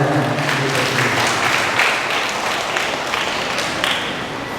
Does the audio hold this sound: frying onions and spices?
no